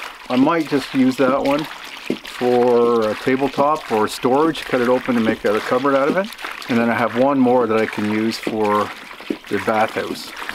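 Water runs steadily in the background, apparently draining from a roof into a rain barrel, a constant hiss beneath someone talking nearby throughout.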